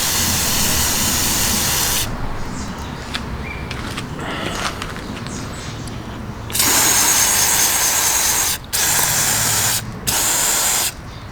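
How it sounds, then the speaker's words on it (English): Loud hissing bursts from an aerosol spray can of cleaner sprayed into a car's mass air flow sensor, a long spray followed by several shorter blasts separated by brief pauses. "You just want to spray a lot of this in there."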